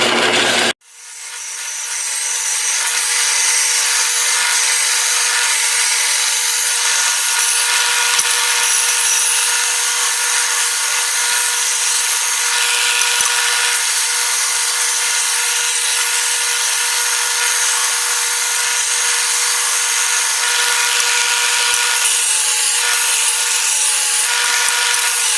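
Harbor Freight belt sander converted to a knife grinder, grinding steel with a loud, steady, harsh abrasive roar that starts abruptly and runs continuously up close.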